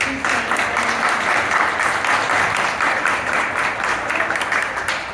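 A crowd at an art exhibition event applauds steadily throughout, a dense wash of clapping hands that holds at a constant loud level without a break.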